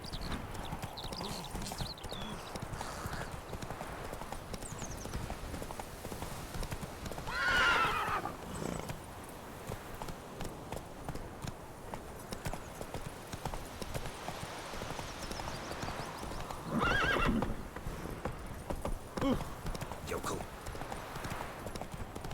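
In The Witcher 3 video game, a horse's hooves clip-clop steadily throughout, with two clear neighs partway through. A person talks over the hoofbeats.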